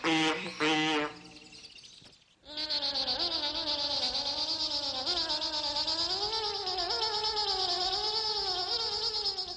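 A cat sounds in drawn-out, wavering, whining cries that start with a couple of short calls, break off briefly, then hold as one long sustained wail, loud and close with no talk.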